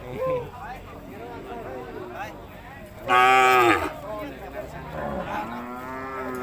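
Charolais cattle moo loudly at a cattle and buffalo market in Surin, Thailand, one long close bellow rising above a steady murmur of people talking and bargaining.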